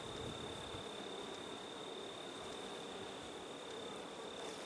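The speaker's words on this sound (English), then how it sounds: "I don't know if you can hear that, but it's buzzing pretty loud." A steady buzzing hum of bees, fairly continuous and even, with a faint high whine running throughout and no voices.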